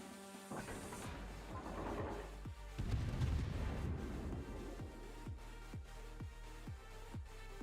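A Tier VIII British cruiser, HMS Albemarle, fires shells that hit their target in World of Warships. Low booms and rumbling impacts come first, then a regular series of sharp, evenly spaced thumps, all at fairly low volume.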